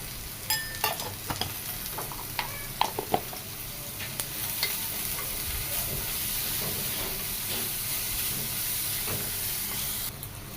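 Ingredients for a crab roast, seasoned with salt and turmeric, sauté in a hot pan with a steady sizzle and hiss, close by. Scraping and clinking stir strokes come often early on, then the frying settles into an even crackle.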